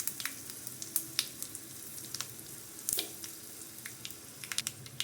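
Crushed garlic, dried red chillies, cumin, mustard seeds and asafoetida sizzle in hot oil while tempering Andhra pappu charu, a soft, close crackle with scattered sharp pops and spits.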